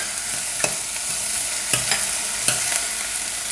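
Potato and mixed vegetables sizzling in a pan for a curry to go with chapati, a steady close fry with a few sharp spoon clinks and scrapes as they are stirred.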